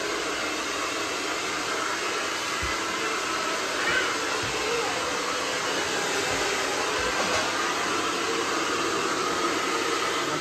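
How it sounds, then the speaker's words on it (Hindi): Hair dryer running steadily at home after a bath, a continuous broadband blowing whoosh held at an even, fairly loud level for the whole stretch with no talking. "इसको नहाने के बाद ना हेयर ड्रायर चाहिए"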